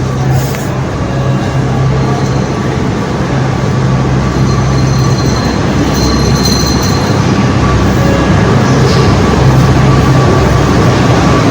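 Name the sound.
metro train running in Jaipur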